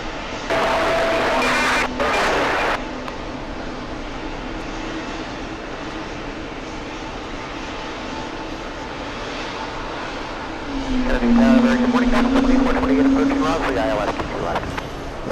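Airliner engines roar at JFK airport, a broad steady rumble that swells louder toward the end as a jet passes nearby, with people talking over it during the opening seconds.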